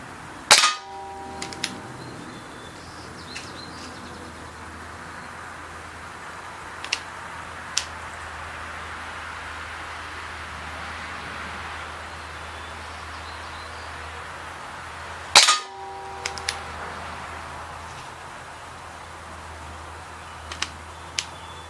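A Umarex Browning Buck Mark URX pellet pistol fired twice, each a sharp, loud, close crack, with a long quiet stretch between the shots and faint small clicks and handling noises.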